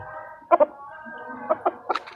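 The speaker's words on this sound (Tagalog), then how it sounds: "favorite na manok natin guys" A gray chicken clucks in short, close bursts, a few throaty notes spaced apart over a soft background.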